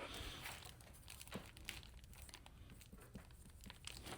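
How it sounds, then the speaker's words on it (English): A Ziploc plastic bag holding four mounting screws for a Yamaha XMAX 300 scooter windscreen is pressed shut, giving close, faint, continuous crinkling and rustling with a few sharper crackles. "I'm going to put the 4 screws that hold this in the bag, and I'm going to seal it up."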